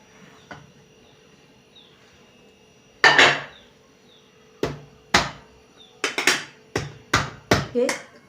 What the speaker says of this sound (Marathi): थोडंसं हलक्या हाताने आपटून घेऊया